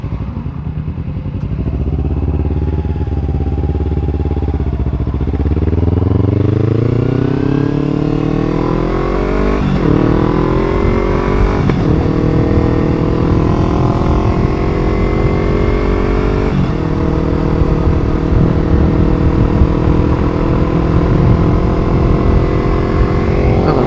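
A 2012 Kawasaki Ninja 250 on the road gives a loud, steady engine drone that climbs in pitch through several upshifts over constant wind rush, with no talking.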